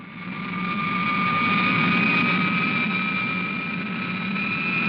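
Steady droning engine of a Supercar craft in flight at 300 feet and 750 knots, loud and continuous with a sustained whine, rising slightly in level midway as it goes into a final dive.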